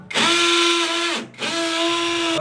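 A power drill for mounting a shelf runs loud and close in two steady whining bursts, spinning up, holding a constant pitch, briefly stopping, then starting again.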